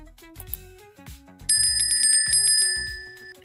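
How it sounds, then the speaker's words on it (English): A bicycle bell rings loudly and clearly in rapid repeated trills lasting about two seconds, close by over background street noise. "his bell is also too loud"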